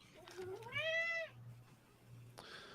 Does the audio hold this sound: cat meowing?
yes